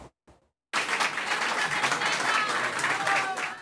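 Applause breaks out at a swearing-in ceremony for officials, starting abruptly after a brief quiet pause and continuing as dense, steady clapping from a crowd, with a few faint voices in the background.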